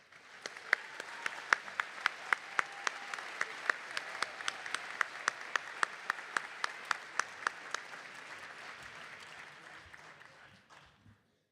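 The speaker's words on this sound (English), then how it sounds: "Let's give them a round of applause." Sustained applause for graduates at a midyear university commencement, a dense crowd clapping steadily for about ten seconds with sharp individual claps standing out, fading slightly at the end.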